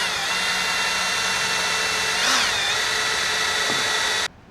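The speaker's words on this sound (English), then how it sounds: "We're gonna drill a hole." A power drill whines steadily and loudly through most of the clip while drilling a hole during trailer light wiring repair, pitch rising briefly midway as the bit bites, then stops abruptly near the end.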